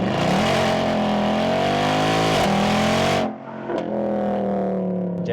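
Replica Mercedes C63 Black Series V8 revving hard while downshifting through the gears in manual mode: a loud, close, rising engine roar with blips between gear changes, a sudden cut, then settling into a steady burble.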